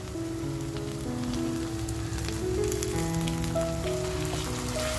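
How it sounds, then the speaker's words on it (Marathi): Ginger, garlic, coriander and green chili thecha paste frying with onions in a pan for Maharashtrian prawn masala, a steady close sizzle with dense crackling spatter running continuously throughout. "आपल्याला हा ठेचा सुद्धा आहे ना तो सुद्धा छान असा कांद्याबरोबर परतवून घ्यायचं आहे"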